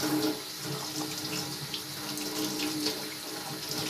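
Water runs steadily from a kitchen tap fed by a water heater, a constant close-up rushing splash with no talk over it.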